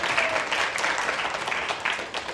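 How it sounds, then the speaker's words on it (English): Audience applause at a women-in-business talk with a Unilever chief brand officer, a steady wash of clapping from a seated crowd throughout, moderately loud and unbroken. "I think that deserves a round of applause"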